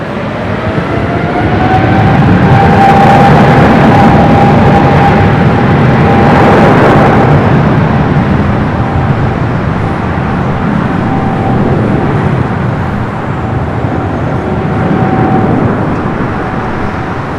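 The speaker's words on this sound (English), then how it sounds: "That's 777 200 ER now rolling down to 24 left." A Boeing 777-200ER airliner rolls down runway 24 Left at LAX on takeoff, with a loud, sustained jet roar and a high engine whine that swells early on, then holds as a steady, powerful rumble.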